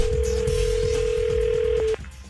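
A telephone line gives a steady, clear tone that holds for almost two seconds and then cuts off abruptly. Faint room noise sits underneath.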